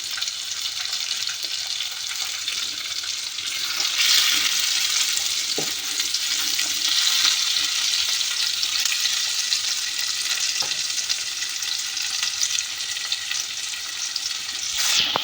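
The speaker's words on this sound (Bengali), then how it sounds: "একবারে টমেটো যাতে গলে যায় কালার আছে এই জন্য টমেটো দিয়ে দিলাম" Tomatoes fry in hot oil with garlic in a pan for an okra curry, a loud, steady sizzle close by that swells after a few seconds, with occasional stirring scrapes.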